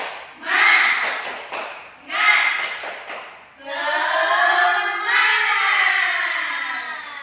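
A class of students doing a tepuk semangat cheer: two short rounds of rhythmic group clapping with chanted voices, followed by a long stretch of sustained children's chanting.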